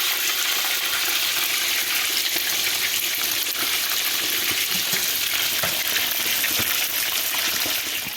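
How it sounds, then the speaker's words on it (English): Steady, loud sizzling of soy sauce chicken frying in hot oil, a dense crackling hiss that continues without pause throughout. "It's frying for 20 minutes, 10 minutes on each side."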